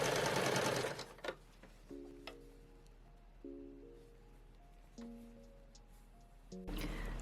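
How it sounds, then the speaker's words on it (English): A cover stitch sewing machine stitches along the inner edge of a recycled nylon swimsuit, running in short, quiet humming bursts with pauses, framed by louder rustling of fabric at the start and end. "So now I'm going to do that same stitch all along this inner edge."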